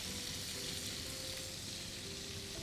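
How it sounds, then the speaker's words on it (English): Fish lightly frying in a pan for a Bengali doi maach curry gives a steady, close, even sizzle with no break, and no voices over it. "just lightly fry the fish"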